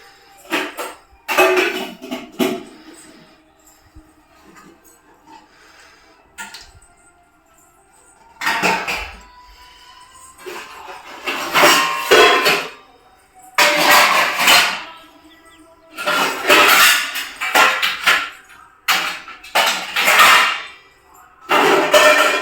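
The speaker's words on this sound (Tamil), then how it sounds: "பாத்திரத்தை எடுத்து கமிச்சிருங்க." Cooking pots and pans picked up and turned upside down in a home kitchen, sounding as a series of irregular metallic clanks and clatters in bursts with quiet gaps between them, close by.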